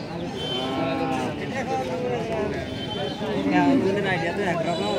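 A two-toothed bull at a livestock market lets out long, drawn-out moos nearby while several people talk over the sound.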